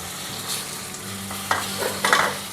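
Boiled raw banana pieces are stirred into fried lentils in a pan for a Telugu banana mustard curry, giving a low cooking hiss with a few brief scraping stirs near the end.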